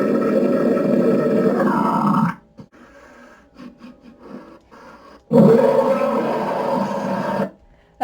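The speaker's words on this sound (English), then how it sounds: "let's go with demon roar sound effect" A demon roar sound effect: a loud, rough, growling roar for about two seconds, a quieter rumbling stretch, then a second loud roar of similar length that cuts off sharply.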